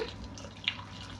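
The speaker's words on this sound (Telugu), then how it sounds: "నేను హాట్ వాటర్ వేస్తున్నాను" Hot water poured over small-cut potato pieces in a kitchen while making aloo masala: a brief, faint wash of pouring water with a single soft splash near the end.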